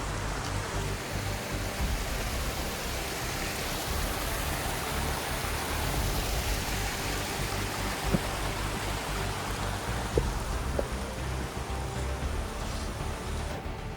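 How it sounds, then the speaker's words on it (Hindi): Cold, strong wind on the Annapurna trek in Nepal blows as a dense, continuous broadband rush, loud and steady with slight gusting, with no voices over it. "मौसम अचानक से बहुत ही चेंज हो गया है, बहुत ही ठंडी हवा चल रही है।"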